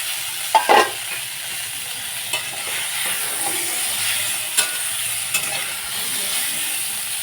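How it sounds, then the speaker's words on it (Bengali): Eggplant pieces fry in oil with salt and turmeric, giving a steady soft sizzle and hiss, broken by a few light clinks and spatula taps early on and again near the middle. "সামান্য লবণ, সামান্য হলুদ গুঁড়া দিয়ে আমি বেগুনটাকে ভেজে তুলে নেব"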